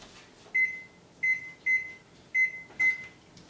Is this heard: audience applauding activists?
no